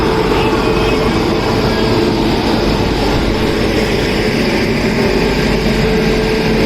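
A loud, steady rumble of an Indian passenger train locomotive in motion fills the clip, a constant low mechanical drone without any voices.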